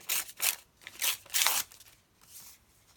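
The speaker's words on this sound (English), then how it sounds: "I'm going to tear that." Paper is torn by hand while working on a design and technology school project. Several short, crisp ripping bursts come close up, then fade to a softer final rip.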